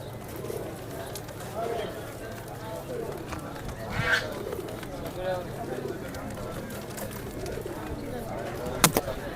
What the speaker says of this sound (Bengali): তো এদিকে কিছু হুমা কবুতর আছে